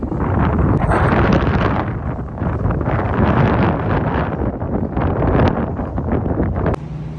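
Wind buffeting a microphone outdoors outside a Sam's Club store, loud rough gusty rumble that rises and dips steadily, dropping off abruptly near the end.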